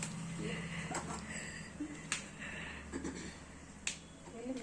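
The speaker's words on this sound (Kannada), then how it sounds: "ಆಂಟಿ ಮೆಣಸಿನ್ಕಾಯಿನ ಮಿಕ್ಸಿಗೆ ಹಾಕೊಳಕ್ ಮುರಿತಾ ಇದ್ದಾರೆ" Dried red chillies snapped apart by hand for a mixer grinder while making Rajasthani-style maida papad, giving several sharp, dry cracks spread across the stretch over a steady background hum.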